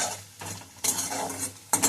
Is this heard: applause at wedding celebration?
no